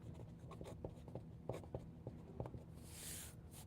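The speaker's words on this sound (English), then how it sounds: "So let me just write eggplant" A pen writes a label by hand, faint close scratching strokes and small taps in short irregular bursts, quiet and alone with no talk.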